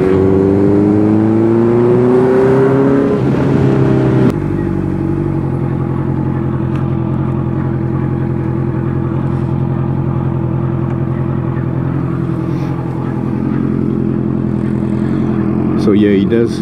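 A Honda CB 650F motorcycle fitted with a full R9 exhaust, riding on roads in Bali: its engine revs up, then settles into a steady loud cruising drone, with a rider's voice briefly heard over it.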